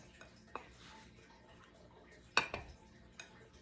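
A lid is set on a cooking pot in a home kitchen: a few sharp metallic clinks and clatters, the loudest pair close together, against a quiet background.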